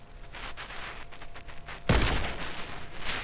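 A loud burst of sniper gunfire from the Fortnite video game cracks out close and sharp about two seconds in, followed by ongoing noisy rumble.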